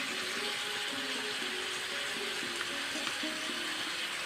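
Chili powder and other ground spices sautéing in hot oil in a home kitchen, giving a steady, close, moderately loud sizzle that runs throughout with no talking.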